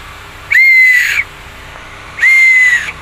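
A turbo whistle for a car exhaust, blown by mouth, gives two sharp, high, steady whistles of about half a second each, separated by a short pause, loud and close.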